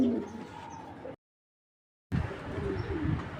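Giribaz pigeons coo softly in a loft, a few low calls on either side of a short gap of silence, fairly faint.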